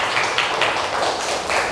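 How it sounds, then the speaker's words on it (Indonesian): Applause in a classroom, a short burst of scattered, fairly close hand clapping that runs steadily for under two seconds with no talking over it. "Kita beri tepuk tangan dulu menjagalah."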